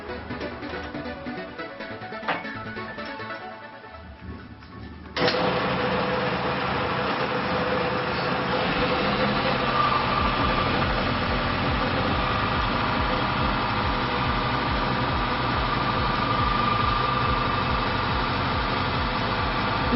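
A friction test machine running with Jet 1 oil enhancer gives a steady mechanical drone that jumps louder about a quarter of the way in and then holds an even, continuous hum.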